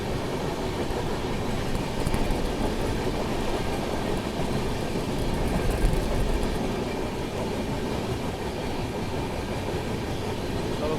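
The 12618 Mangala Lakshadweep Express passenger train runs on rails toward Bina Junction, with a steady, loud, close rumble and faint clickety-clack that continues without a break throughout.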